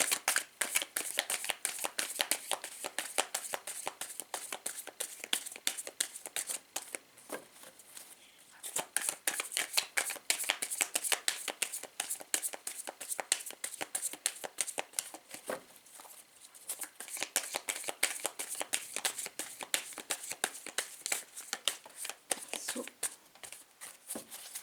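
A deck of tarot cards is shuffled and cut in a run of rapid, close riffling flutters and papery slaps that pause briefly twice, with a voice talking at times.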